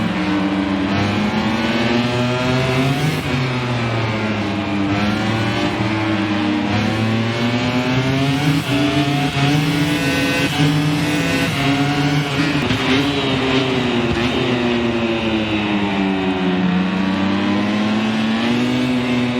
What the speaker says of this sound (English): We now ride with Morbidelli